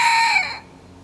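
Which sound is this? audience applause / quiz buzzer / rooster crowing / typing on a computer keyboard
rooster crowing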